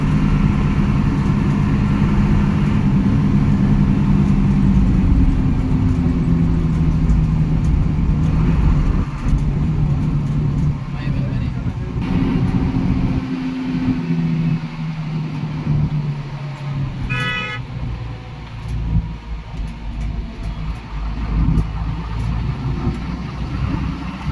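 A Hanif coach bus drives on a busy road, racing another bus. Its engine sends out a loud, steady low drone that rises and falls slightly, with road rumble and a brief higher whine partway through, heard without speech.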